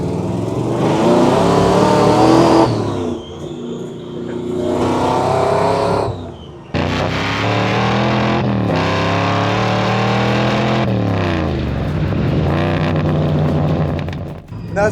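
A 1968 Camaro engine revved repeatedly, loud and close, with several bursts climbing in pitch then falling back, brief lulls between pulls and a long sustained rev in the middle.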